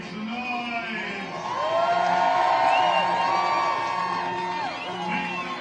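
Crowd at an anti-Trump Hands Off protest in Los Angeles cheering and whooping steadily, swelling louder midway through, with scattered yells and voices mixed throughout the noise.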